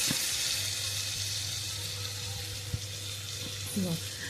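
Chopped tomatoes and green peas fry in a pan with salt, giving a steady, soft sizzle with a couple of faint stirring clicks.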